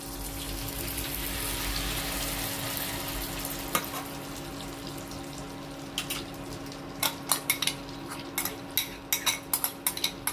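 Spices are stirred into melted butter in a pan for paneer butter masala: a steady soft sizzle gives way to a run of sharp spoon-on-pan scrapes and clinks in uneven bursts.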